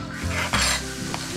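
Vegetable oil sizzles in a pan being readied for a sauce, a short close hiss with some stirring and metal clatter, no talking.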